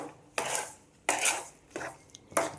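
Kesari being mixed in a pan with a utensil, heard as four scraping, rasping strokes in slow rhythm, close by, with quiet pauses between them and no voices.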